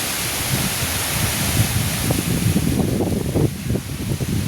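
Strong storm wind roars steadily with rain starting, a broad hissing rush with gusty low buffeting and no voices.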